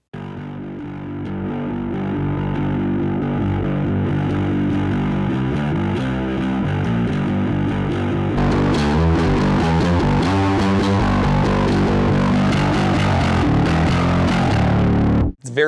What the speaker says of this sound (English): Let's see what it sounds like with the distortion kind of all the way up.